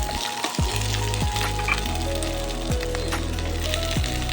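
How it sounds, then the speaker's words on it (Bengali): Cubed capsicum and mixed vegetables frying on medium heat, a steady loud sizzle up close with a few stirring scrapes at intervals and a faint music bed underneath. "এটাকে ভালোভাবে ভেজে নেবো প্রথমে। আঁচটাকে মিডিয়ামে রাখবো ভাজার সময়।"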